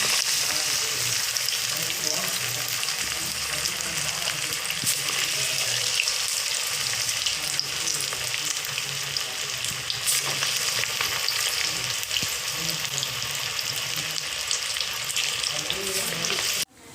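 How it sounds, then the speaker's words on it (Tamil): Banana flower vada deep-frying in hot oil, a steady close sizzle and crackle that runs unbroken throughout, with a faint voice briefly under it. "அந்த எண்ணெய் கொதிக்கிறதுலாம் அடங்கினோன்னு நல்லா வெந்திருக்கும்"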